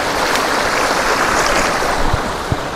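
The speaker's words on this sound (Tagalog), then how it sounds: "yung sapa po natin, di masyadong malakas yung tubig ngayon" A creek running at modest strength during a typhoon, its loud, even rush of water filling the whole stretch with no voices and only a couple of small knocks near the end.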